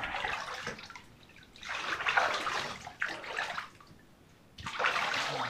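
Water poured over a dog during a bath comes in three loud splashing bursts separated by short quiet pauses, with no talking.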